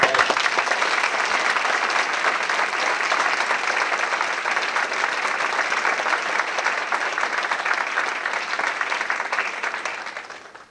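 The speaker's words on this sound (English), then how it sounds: "Applause for the distinguished graduates." Sustained applause from a graduation audience for distinguished graduates of an Undergraduate Navigator Training class, dense and loud clapping that holds steady before fading out at the end.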